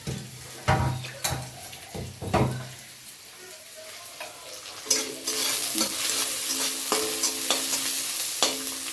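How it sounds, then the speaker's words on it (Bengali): Potatoes frying in a pan, starting with several sharp clatters of stirring against the pan, then a steady, close sizzle rising and holding through the rest. "আলু একটুখানি ভাজবো"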